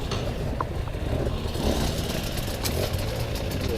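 A motorcycle engine runs with a rough, steady drone while being ridden and shifted up through the gears, with wind noise and no talk over it.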